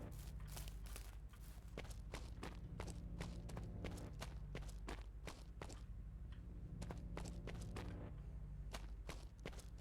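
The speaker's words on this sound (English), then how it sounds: "Pretty sure that's the Counter-Strike / Half-Life walking noise." Rhythmic video-game walking footsteps like those of Counter-Strike / Half-Life, a steady series of crisp, close thuds repeating under low ambient noise with no talk.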